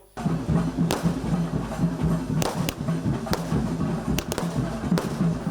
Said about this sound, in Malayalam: പടക്കം പൊട്ടിച്ചും പുഷ്പങ്ങൾ വിതറിയും നാടിന്റെ സ്വപ്നത്തെ ജനങ്ങൾ വരവേറ്റു